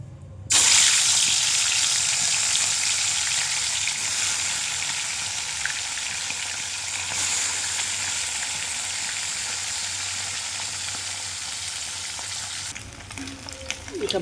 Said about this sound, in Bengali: তেল গরম হয়ে গেছে, এবার মাছ ছাড়বো